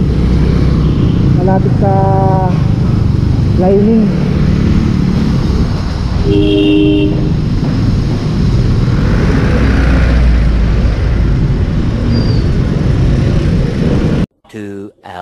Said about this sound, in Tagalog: Maingay yung makina niya